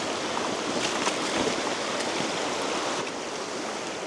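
A river flows steadily close by, a continuous broadband rush of moving water with faint splashes, with no voices and no pauses.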